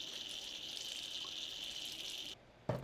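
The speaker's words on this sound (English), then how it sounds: "I'm going to rinse the test tube out several times." Tap water runs steadily into a lab sink to rinse a test tube, a close, continuous hiss that cuts off near the end before a brief splash.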